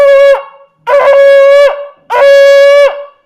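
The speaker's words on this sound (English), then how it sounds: "The shvarim has to be at least the sound of 3 of those." A shofar sounds three medium-length shevarim blasts with short pauses between them, each a bright, buzzy horn tone with a wavering start and a clipped end.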